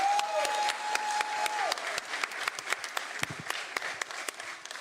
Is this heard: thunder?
no